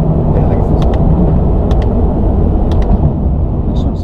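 Loud, roaring Bugatti Chiron engine rumbling continuously under acceleration from inside the car, with faint voices briefly audible beneath the drone.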